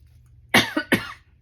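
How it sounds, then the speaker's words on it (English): A pair of sharp, harsh coughs close to the mic, the first with a short follow-up hack, then quiet. "And I still have very bad cough."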